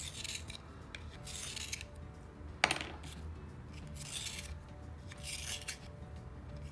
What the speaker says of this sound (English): So I'm gonna sharpen my pencils.